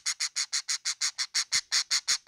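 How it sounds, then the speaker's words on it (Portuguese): A pet bird chirps in a quick, even series of about a dozen bright, close calls, each call a short burst with a brief gap before the next, with no other sound around them. "Esse é o nosso Chu, pássaro Chu"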